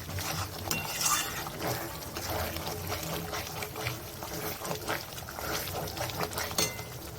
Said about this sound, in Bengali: আর আমি মশলা ধোয়া বাটিটার জলটা দিয়ে দিচ্ছি।